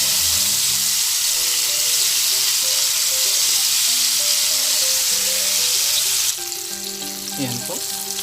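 Chicken frying in oil with turmeric, a loud continuous sizzle throughout that drops slightly near the end as clinks and stirring come through, with no talk.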